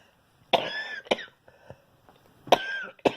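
A woman with COPD who lives on oxygen coughs indoors, four harsh, close coughs in two quick pairs separated by short quiet gaps.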